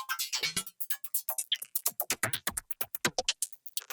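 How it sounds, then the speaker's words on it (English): A fast, busy squelchy percussive synth loop for minimal house, made with a drum synth: clicky, bubbling hits in a tight repeating rhythm, dry and upfront. "grab a squelchy percussive top that I made in another project"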